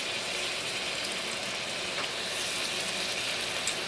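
Frozen shrimp sizzling in a hot pan for shrimp zucchini boats: a steady, bright hiss of frying with faint crackles, close and continuous, without talk.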